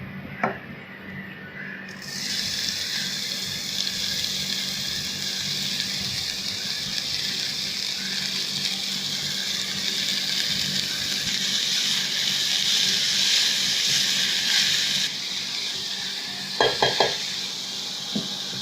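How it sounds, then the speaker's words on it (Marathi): Chopped cabbage drops into a hot pan already holding oil, asafoetida and turmeric, and breaks into a steady bright sizzle that swells and holds, joined near the end by a few sharp utensil clinks. "त्यावर आपण आता हा चिरलेला कोबी घालूया"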